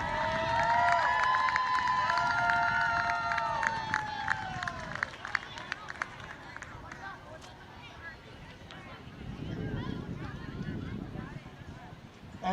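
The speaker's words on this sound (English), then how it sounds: "Let's give both teams another round of applause." A crowd at a youth coach-pitch baseball championship applauds and cheers for both teams. An announcer's voice rings over the start, and the clapping and scattered shouts swell again later, spread wide and somewhat distant.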